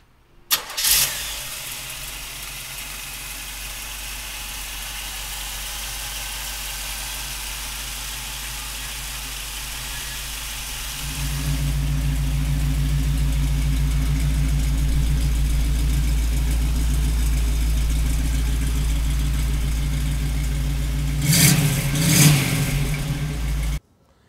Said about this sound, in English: let's fire this little street rod up